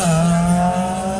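A rally car drives through a famous Otago Rally stage, its engine a steady, close, droning tone held for about a second, with no voices over it.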